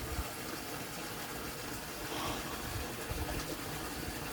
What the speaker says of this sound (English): I'm refreshing his water, so hopefully it's not too loud.